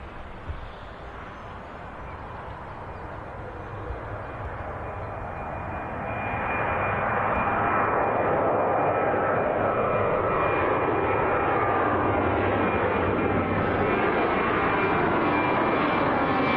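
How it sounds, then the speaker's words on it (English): An airliner taking off at Birmingham Airport, its jet engines building from a distant roar into a loud, sustained thunder with a steady whine on top, heard alone without voices. "I absolutely love the 767 takeoffs from there"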